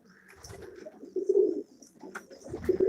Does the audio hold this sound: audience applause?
no